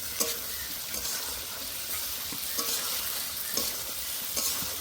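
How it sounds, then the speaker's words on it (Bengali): Fried potato and eggplant stir-fried in oily masala for a Bengali niramish curry, a steady sizzle with repeated spatula scrapes against the pan, close and continuous. "এবার ভেজে রাখা আলু বেগুনটা দিয়ে দেব। আবারও কিছুক্ষণ কষে নেব।"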